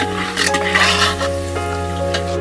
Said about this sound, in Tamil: நெய்யில ரவை வறுக்கிறோம். நல்லா பொரியுது பாருங்க.